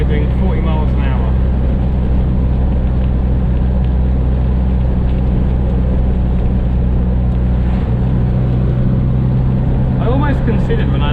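Constant loud engine drone and wind roar inside an MG Midget driving at 40 mph in wind and rain, with someone talking briefly over it.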